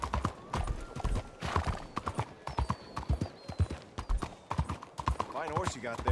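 Horse hooves clip-clop in a steady rhythm in the Red Dead Redemption 2 video game, close and clear, with a whinny near the end and voices talking over the hoofbeats.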